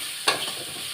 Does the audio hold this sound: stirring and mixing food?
yes